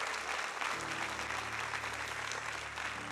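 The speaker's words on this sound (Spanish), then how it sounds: "Así que un aplauso a Dios por eso." Church congregation applauding, a dense and steady wash of many hands clapping together that holds evenly across the moment, with a low musical hum beneath.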